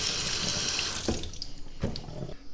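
A kitchen tap runs steadily into a sink while leeks are rinsed, giving a continuous hiss of flowing water with a couple of soft knocks from the vegetables or basin.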